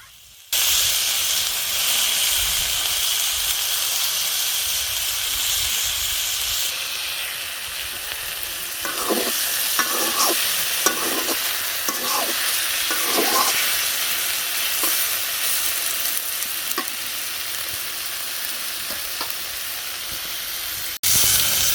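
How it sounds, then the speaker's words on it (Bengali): Taro stolons (kochur loti) hiss loudly in hot oil with onion and chili, a constant close sizzle. A run of scraping stirs from a spatula comes partway through, then the steady frying continues alone. "তো এখন কচুরলতি ওইগুলো দিয়ে নিল, এগুলো ভালো করে নেড়েচেড়ে মিশিয়ে নিব।"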